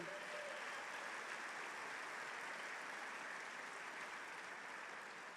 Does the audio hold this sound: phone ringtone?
no